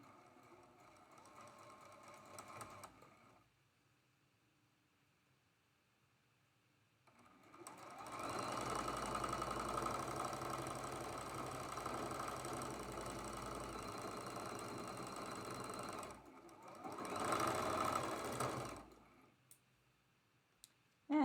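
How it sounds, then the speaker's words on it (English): A sewing machine runs a joining seam on a quilt block with a fast, even clatter. Two clear runs stand out, a long steady one and a shorter one, after a brief quieter start, with pauses between and no talk. "we're going to sew that joining seam right down the middle"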